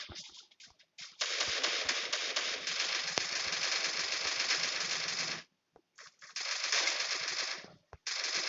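Long sustained bursts of rapid automatic gunfire from a video game shooter, loud and continuous, breaking off briefly and then resuming for a second stretch, with no talking.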